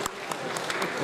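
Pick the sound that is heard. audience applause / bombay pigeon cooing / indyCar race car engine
audience applause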